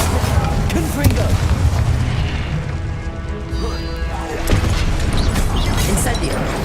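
Booming blasts from a Confringo blasting curse in Hogwarts Legacy rumble through dense, continuous combat noise, with heavy low-end impacts swelling near the start and again toward the end.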